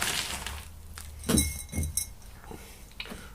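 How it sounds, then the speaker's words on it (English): Broken crock shards dropped into the bottom of a plant pot while repotting a Ferocactus, giving a few scattered clinks and brittle clatters spread across the moment, fairly quiet and without talk. "Pot with a bit of crock in the bottom, so put a little bit in the bottom."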